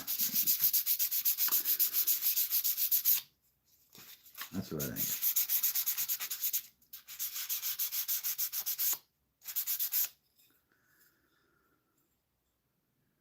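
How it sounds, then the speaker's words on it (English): Close, rhythmic scratchy sanding strokes with a brief pause and a short spoken remark, then a final burst of sanding before it goes quiet. "We're almost halfway through this little sanding phase."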